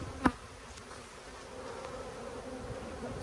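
Angry honey bees swarm around a beekeeper working a hive, their dense, steady buzzing close and continuous, with a single sharp knock near the start.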